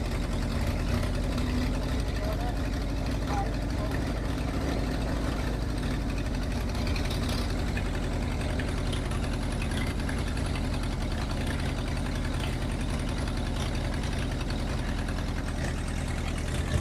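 A dump truck's engine idles with a steady low rumble that holds an even level throughout, with no talk over it.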